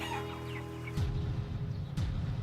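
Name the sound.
chickens clucking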